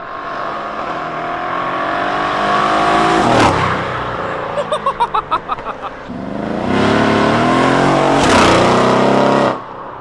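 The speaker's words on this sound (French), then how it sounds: "J'adore le bruit de cette voiture" A loud, tuned 750 hp Mercedes E63 AMG engine revs hard and accelerates, rising in pitch, pauses with a few sharp pops and crackles, then roars up again before cutting off.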